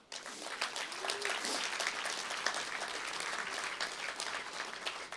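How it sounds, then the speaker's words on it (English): Audience applause at the ISE 2020 Stand Design Awards ceremony on the main stage, a steady wash of many hands clapping that rises quickly and holds at moderate loudness, with a faint voice briefly under it. "I would also ask for a round of applause for our 1 point away second place finisher,"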